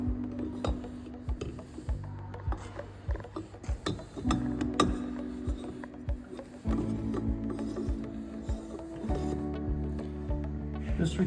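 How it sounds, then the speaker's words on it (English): Metal rotor parts of a Bornemann SLH-5G pump are spun and threaded on by hand, giving irregular ratcheting clicks, scrapes and clanks up close, with steady machine hum underneath. "Then you take the rotor and spin it on."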